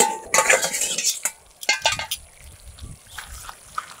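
A cooking pot of quail pepper fry being opened, its lid clattering loudly at first, followed by scattered metal knocks and scrapes of utensils against the pot.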